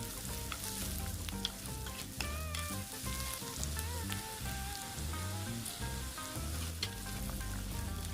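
Crushed red chilli fries in oil in a pan for Kerala-style beef fry, a dense continuous sizzle and crackle with stirring, while music plays loudly underneath throughout.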